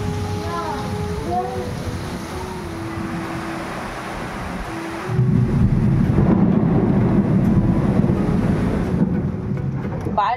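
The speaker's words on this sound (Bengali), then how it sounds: "মারাত্মক বৃষ্টি হচ্ছে, সঙ্গে আকাশ ডাকছে" A heavy downpour hisses steadily and grows clearly louder partway through, with a low thunder rumble under the rain and a brief voice near the start.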